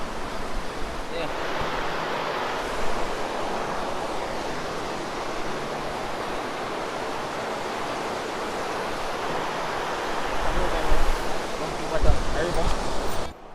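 A large river in Jamaica rushes steadily as a broad, continuous roar close by, growing a bit louder near the end with a few scuffs and bumps.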